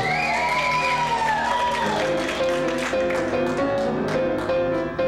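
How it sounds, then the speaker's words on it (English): A theatre audience at a Broadway concert applauds wildly, with dense sustained clapping, cheers and whoops filling the room throughout, while a held musical fanfare rings under the crowd noise. "And the audience applauds wildly."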